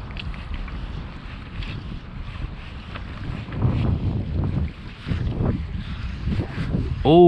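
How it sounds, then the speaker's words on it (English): Steady wind buffets the microphone with a rumbling roar at a lake, gusting louder at moments, with faint voices barely audible underneath. "might be a little bit too windy."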